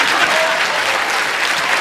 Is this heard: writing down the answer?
no